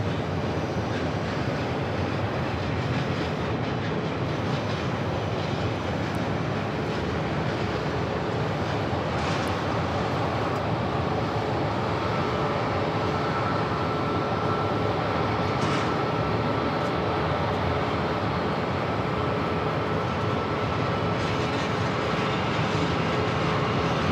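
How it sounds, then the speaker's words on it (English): A Boeing 737 Max 8 arriving from Chicago at Phoenix Sky Harbor produces a continuous, loud engine roar that holds steady for a long stretch with faint shifts in tone. "Max 8 coming in from Chicago, flight 1983."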